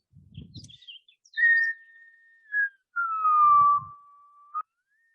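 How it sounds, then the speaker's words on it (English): A person whistles into a phone, producing a few clear, sustained whistled tones that glide gently in pitch, with short pauses between them and a little faint low noise, all close and fairly quiet. "So I can whistle into the phone and we'll get kind of a cool effect here."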